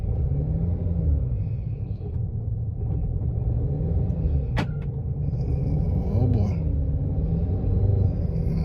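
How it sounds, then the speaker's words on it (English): A car with a slipping transmission strains under a constant low engine rumble and drone, heard from inside the cabin and loud throughout, with a brief sharp knock partway through and people talking at moments. "The transmission is slipping like a champ."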